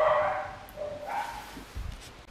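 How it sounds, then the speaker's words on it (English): Several dogs barking and yipping indoors at fairly close range, a couple of higher-pitched barks at first followed by a lower, gruffer bark near the end. "my dogs just decided to start going nuts"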